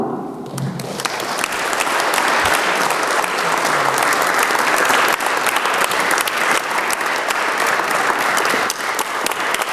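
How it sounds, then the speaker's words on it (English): An audience at a talk in Hartford breaks into sustained applause, dense steady clapping from many hands filling the room for several seconds without voices. "I would like to give a round of applause"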